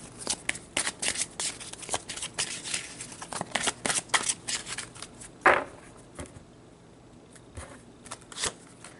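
Tarot cards are shuffled and drawn close up, giving a run of quick papery riffles and flicks, then a sharper snap as one card is pulled, followed by quieter sporadic handling.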